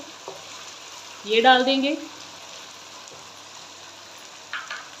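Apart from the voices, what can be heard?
chicken and tomatoes frying in oil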